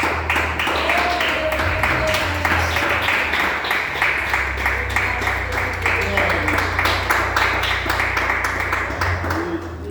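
A church congregation claps hands in praise during a worship service, a steady rhythmic clapping that runs the whole time over a sustained low instrumental drone and murmuring voices.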